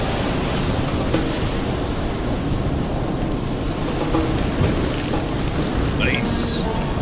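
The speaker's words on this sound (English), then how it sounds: "Please tell me I go through that waterfall too." A waterfall in the video game Black Myth: Wukong roars as a dense, steady wash of broadband noise, loud and continuous, with a brief brighter chime near the end.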